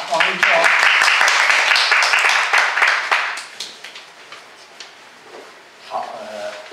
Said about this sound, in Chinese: 那我们现在鼓掌欢迎